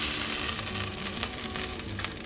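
Steaks sizzling and frying in a pan, a dense, steady hiss and crackle heard up close and alone for a couple of seconds.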